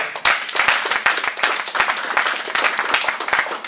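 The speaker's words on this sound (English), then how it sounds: "Let's give them a round of applause." Crowd applause for a boxing team being introduced at a press conference, dense rapid claps with sharp individual hits, steady and fairly loud for the whole stretch with no talk.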